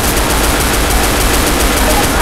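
Rapid, loud automatic gunfire rattles continuously as players fire at a monster in Left 4 Dead, forming a dense, unbroken barrage throughout.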